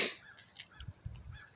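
Crows cawing outdoors on a sunny day at a gold-hunting site: a few short, faint-to-moderate caws spaced apart over quiet background.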